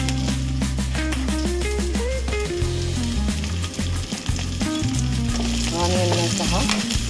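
Chopped onions fry loudly in a pan for nuggesuppu palya, a dense steady sizzle broken by repeated scraping strokes of a spatula as they are stirred, close and continuous.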